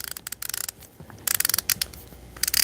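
A microbrand dive watch's rotating bezel ratcheting around, bursts of crisp rapid clicks in quick trains with short pauses, very close and loud, no voices.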